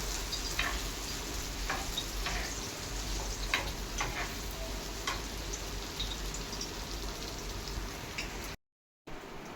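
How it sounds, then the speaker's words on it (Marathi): Mushrooms fry in hot oil for a mushroom bhaji, giving a steady close sizzle with scattered crackles and pops throughout, and a brief dropout near the end. "हे आपले मशरूम फ्राय होत आहे."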